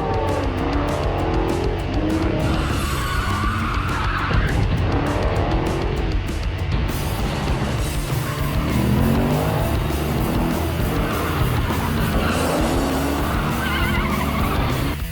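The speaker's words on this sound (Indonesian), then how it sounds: "Dusty pun berhasil kabur dari sana menggunakan truk curiannya, yang mana hal tersebut diketahui oleh Travis, dan aksi kejar-kejaran pun terjadi." A stolen truck and pursuing vehicles race through a film car chase, with engines roaring loudly and tires squealing in repeated long skids, sometimes two at once, over a constant driving rumble.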